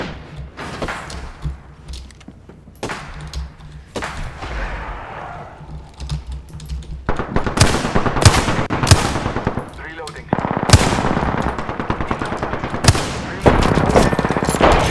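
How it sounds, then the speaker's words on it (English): Dense gunfire in the Apex Legends video game, sparse shots at first giving way to sustained rapid bursts of automatic fire, loud and close, with occasional voices. "I am taking fire, friend"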